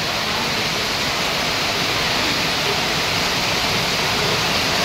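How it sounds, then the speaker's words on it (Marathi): Torrential monsoon rain pours down in Mumbai, a dense, loud, unbroken roar of water with no pauses or voices across the whole stretch. "भयानक पाऊस, भयानक भयानक अति भयानक पाऊस."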